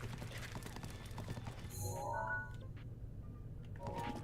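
Horse hooves clip-clop at a steady gallop in Zelda: Breath of the Wild, a continuous rhythmic game sound effect mixed with music and other in-game noises.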